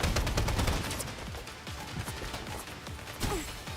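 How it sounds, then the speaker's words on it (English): A flashbang grenade and gunfire in a video game shooter match: loud, sharp bangs and rapid crackling bursts come in close succession over a dense, noisy battle din with no pause. "Flashbang."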